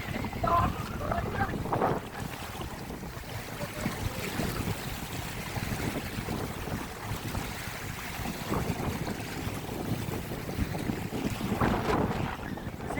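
Water laps and washes at the Kondapochamma Sagar Reservoir under a steady roar of wind buffeting the microphone, with a constant noisy wash and faint voices in the background.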